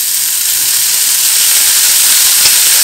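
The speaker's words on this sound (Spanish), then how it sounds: "En un sartén lo tengo a fuego bajo, voy a agregar el tocino." Bacon sizzling in a frying pan over low heat, a steady loud hiss and crackle with no voices.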